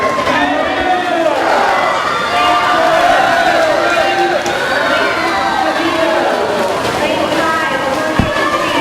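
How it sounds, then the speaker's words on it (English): Crowd noise fills an indoor pool during a boys' swimming sectional meet, a constant echoing roar of cheering and chatter, with commentators talking over it throughout. "And you hear a little bit of the crowd noise here."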